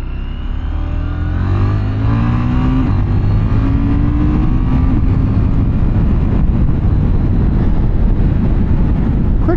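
A 2024 KTM 990 Duke engine drones loudly on the road, its pitch climbing steadily under acceleration with rushing wind noise, close and continuous.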